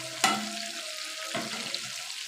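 Chicken wings frying in oil over a low flame for KFC-style wings, a steady soft sizzle with a couple of sharp clatters from stirring or turning the pieces.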